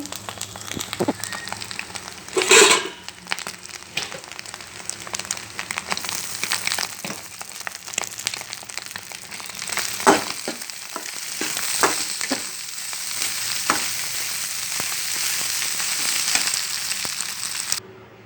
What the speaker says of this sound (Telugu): ఇప్పుడు రైస్ వేసుకొని కలుపుకోవాలి